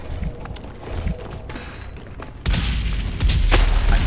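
A grenade explosion in the video game Natural Selection 2: a sudden loud blast lands about midway and a second heavy burst follows soon after, set against ongoing combat noise and rumble.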